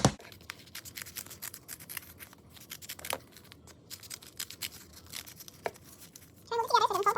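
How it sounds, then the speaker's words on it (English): Scissors snip through paper in a run of quick, sharp scratchy cuts with short pauses, close to the microphone, ending as a voice starts talking. "And you will need a pair of scissors"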